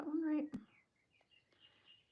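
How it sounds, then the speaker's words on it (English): A brief voice and a sharp click give way to faint, distant bird chirps, a few thin high tweets over quiet background. "Can you guys hear the birds singing?"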